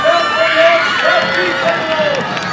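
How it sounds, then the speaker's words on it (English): A crowd cheers at a varsity high school football game, Southeast Seminoles against Wesley Chapel Wildcats, a loud continuous roar of voices with whoops rising and falling around the field, voices talking close by. "The crowd is going wild."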